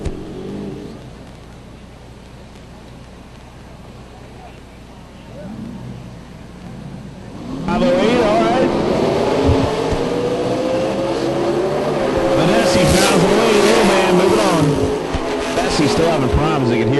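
A 1993 Fox Body drag race car with a 331 cubic inch racing engine launches at the Yellow Bullet Nationals, a loud roaring blast that rises and holds after a quieter stretch, with an announcer talking.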